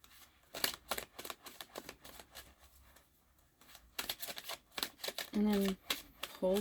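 Two decks of playing cards being shuffled in quick riffling bursts, close and crisp, with people talking intermittently around the shuffles.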